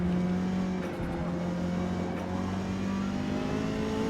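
Mazda MX-5 driven in Forza Motorsport, held in fourth gear on the Nürburgring: a steady, loud engine drone with a sustained low tone, slight pitch shifts as it pulls, continuous throughout with no talking.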